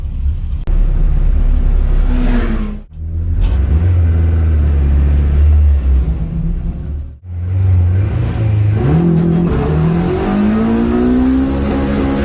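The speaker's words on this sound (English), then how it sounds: "We're getting ready to go out for our first timed run." Loud car engine revving and accelerating at a gravel-strewn autocross course, several rising pulls separated by two sharp lifts, heard close from inside during a first timed run.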